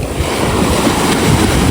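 Big sea waves surging and breaking against rocks on the Konkan coast, a continuous loud roar of surf with wind rumbling across the microphone throughout.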